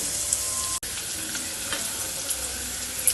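Crushed ginger and garlic sizzle in hot oil for a fish curry, giving a steady, close hiss with one brief dropout and no voice over it.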